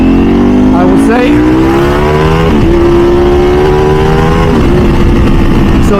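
Loud, near engine drone from a 2024 Ducati V4 SP2 916 motorcycle fitted with a race exhaust. Pitch climbs and shifts in steps as it revs through gears, and a voice talks over it.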